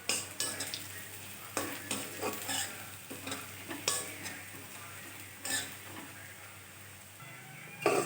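Grated coconut fries in a pan with black cumin seeds, stirred with a metal spoon that scrapes and taps the pan in irregular bursts over a soft, low sizzle.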